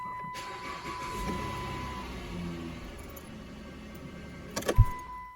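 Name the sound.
Dodge Grand Caravan engine starting and running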